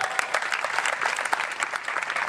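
Applause from an audience at a speech event, steady dense clapping throughout at moderate level with no talk over it.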